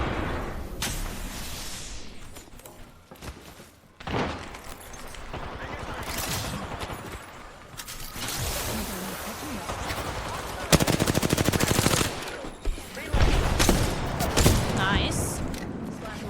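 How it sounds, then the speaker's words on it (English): Automatic weapon fire in the Apex Legends battle royale shooter, with sustained rapid bursts and sharp repeated shots that keep coming over game effects, while a player talks over the action. "Firing."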